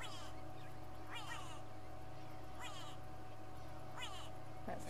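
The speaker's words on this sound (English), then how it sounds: "That's the grey go away bird." A grey go-away-bird calls during an early-morning safari drive, with three or four harsh, descending nasal cries spaced a second or so apart over a steady vehicle engine drone, with background bird chatter.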